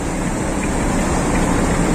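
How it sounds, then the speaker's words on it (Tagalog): Typhoon floodwater rushes across flooded rice fields in Oriental Mindoro, a loud, steady broadband roar that fills the scene without pause and with no voices. "Bumaragasa ang tubig."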